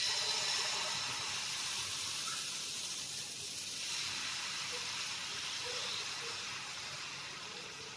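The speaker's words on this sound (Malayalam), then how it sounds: "എന്നിട്ട് നമുക്ക് ഈ ദോശ മാവിൻ്റെ മിക്സ് ഒഴിച്ചു കൊടുക്കാം." Ghee dosa batter poured onto a hot griddle over a low flame, producing a loud, even, steam-like hiss that holds steady and slowly fades.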